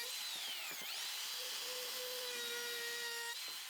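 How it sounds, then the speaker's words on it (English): A router fitted with a chamfer bit cuts along the edge of a scrap-wood mallet, giving a steady high-pitched motor whine with a rising pitch sweep near the start and a continuous cutting tone, at moderate level with no talk. "Route the edge with a chamfer bit."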